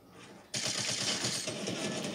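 Rapid automatic gunfire in a video game bursts in after a quiet moment and keeps rattling steadily, loud and dense, to the end.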